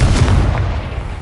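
Confringo blasting spell explosion in Hogwarts Legacy, a single heavy, close boom with a deep low rumble that decays over about a second.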